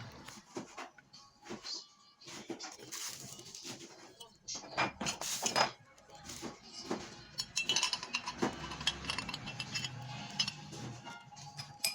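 Parts of an electric Haeger meat grinder are fitted together by hand, giving close, irregular metallic clinks, clacks and scrapes with brief pauses between them.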